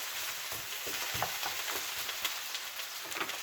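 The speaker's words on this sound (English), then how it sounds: "Hopefully you can still hear me over that beautiful sizzle." Potatoes frying in a pan give a steady, close crackling sizzle with small irregular pops, heard alone without voices.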